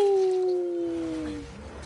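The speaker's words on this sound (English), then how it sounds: "Is that another dog I hear?" A dog in the video game The Last of Us Part II gives a single drawn-out howl that slides downward in pitch and fades, fairly close and heard on its own.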